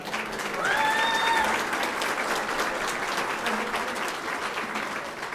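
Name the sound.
audience applause for swearing-in of board president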